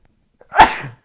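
A single sharp sneeze, close and loud, with a short breathy burst that fades quickly into silence.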